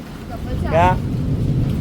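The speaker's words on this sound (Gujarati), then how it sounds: "વધતો જાય છે હવે વરસાદ" Steady heavy rain hisses and patters throughout, a dense wash of noise with a brief voice rising over it midway.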